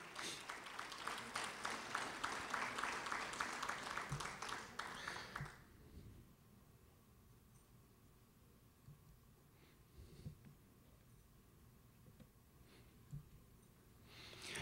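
Audience applause at a magisterial lecture in San Juan, Puerto Rico, a dense burst of clapping lasting about five seconds before cutting off to a quiet room with faint stirring.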